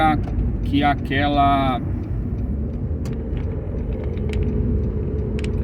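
Road traffic heard from inside a moving car, a steady low engine and road rumble with passing vehicle noise, a voice talking over it at first, then continuing as a constant drone.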